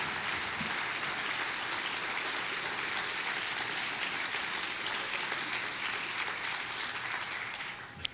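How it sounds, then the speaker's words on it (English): Sustained applause from a large crowd at a commencement ceremony, steady and dense clapping throughout, tapering slightly near the end. "give their family and friends a huge round of applause"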